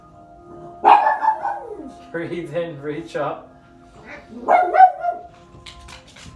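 Puppies barking and yipping indoors during a home yoga session, a few high-pitched barks and whines mixed with a calm voice giving instructions.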